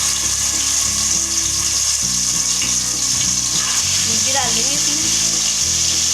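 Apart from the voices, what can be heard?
marinated yogurt chicken sizzling as it fries in oil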